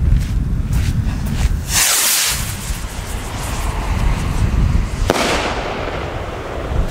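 Thunder rocket fireworks of the Cafferata Mad Dog type bursting outdoors, a sharp crack followed by a hissing, crackling fizz, then another loud bang near the end over steady rumbling background noise.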